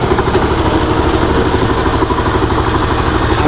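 A tractor engine runs steadily in a rice paddy field, a loud, continuous low throbbing with a clattering chug, close by and without talk.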